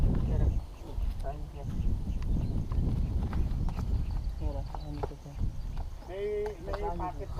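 Horse hooves clip-clop in a steady rhythm near Taal Volcano, fairly close and continuous beneath lively conversation between riders and a guide.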